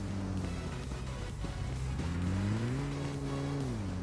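A vehicle in the PUBG Mobile game drives closer with a steady engine drone whose pitch climbs as it revs, then dips slightly at the end. Loud and alone over a low rumbling background.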